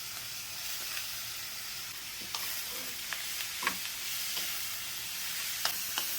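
Long bean pieces stir-fried with pork in a hot pan, a steady hissing sizzle broken by scattered scrapes and taps of the spatula, fairly quiet and with no speech.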